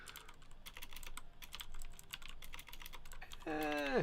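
Quiet, rapid clicking of keys on a computer keyboard in irregular bursts, with a brief electronic chirp sound at the end.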